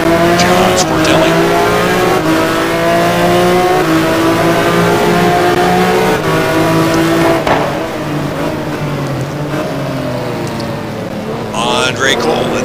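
On-board sound from Andre Cole's McLaren GT1 race car at the Nürburgring: the engine roars loudly at high revs with gear changes and brief tire squeal, while a commentator talks over it.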